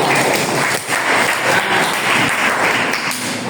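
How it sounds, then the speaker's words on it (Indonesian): Classroom applause for a student teacher at an Indonesian teaching practice lesson: a dense, steady patter of many hands clapping close by, sustained evenly for several seconds with no voices over it. "Oke, tepuk tangan untuk Mbak Ustaz."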